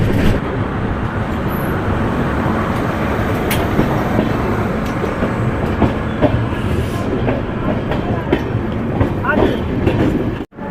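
A passenger train on the Kolkata to Deoghar route pulls away from a junction station, its loud, steady rumble and rhythmic clickety-clack of wheels on rail joints filling the whole stretch up close.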